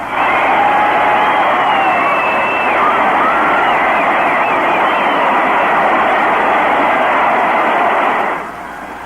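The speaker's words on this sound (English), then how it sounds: "let's listen to the crowd" A packed crowd at Lambeau Field roars loud and unbroken for several seconds as the Green Bay Packers take a late lead over the Chicago Bears in a 1970 football game, then the roar drops off abruptly.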